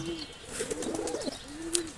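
Pigeons cooing in a loft, with a few soft, low rolling coos spread across the stretch and a brief brighter chirp near the end, at moderate distance and fairly quiet against light background noise.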